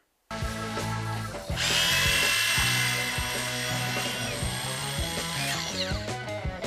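A cordless drill with a 6 amp hour high output battery whirs at high speed, bogging down under load and stuttering in short bursts as it bores a large hole, loud and close.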